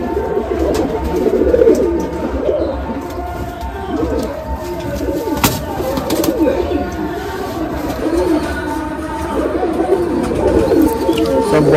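A group of full-crested Madrasi pigeons coo in a loft, overlapping low throaty calls repeating steadily and close by, with faint rustling and occasional background noise.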